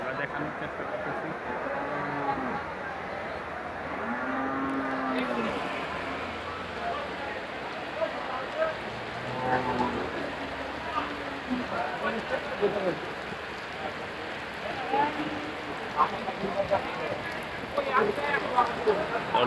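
Rain falling on an outdoor cattle market at Ashulia, a soft steady patter under the scene, while people talk nearby and other voices carry from around the crowded market.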